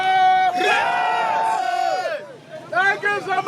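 A crowd of Ogoni activists outside Bori police station in Nigeria shouts and chants together, loud and close, with voices rising and falling in overlapping cries.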